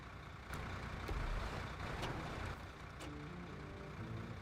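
A Kenworth truck hauling a fuel tanker on a high saddle in the game SnowRunner, its engine a steady, fairly loud low drone with a few faint clicks and a brief tonal beeping near the end.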